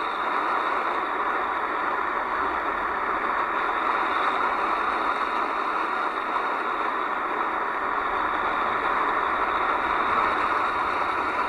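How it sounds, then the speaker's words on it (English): Steady road traffic drones in the background at an RC model flying field, a constant engine-like rumble and hiss with no breaks, fairly quiet and unchanging throughout. "Sorry about the traffic noise in the back."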